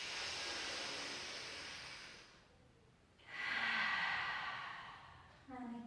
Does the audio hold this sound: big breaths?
yes